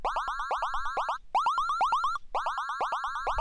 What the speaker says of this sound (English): We've got ring modulation being applied to oscillator 3